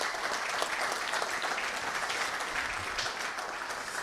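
Sustained audience applause at the presentation of the 2019 International Soccer Cup, a dense steady clapping from a hall full of people, fairly distant and even throughout.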